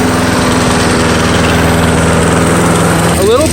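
A Snapper push lawn mower engine runs close and loud, a steady chugging drone with no break, ending in a brief rising whine.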